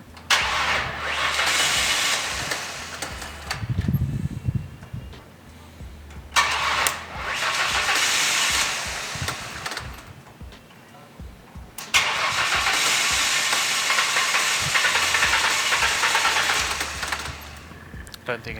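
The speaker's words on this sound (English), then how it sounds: "we have to jump start this car." A Ford Thunderbird with a 3.8L supercharged engine is jump started, with bursts of starter cranking and engine noise broken by pauses, close and loud, while people talk in between.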